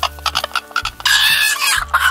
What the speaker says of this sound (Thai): บ้านผมก็เลี้ยงไก่อยู่พอดีนะครับเลือกเอาสักตัวหนึ่ง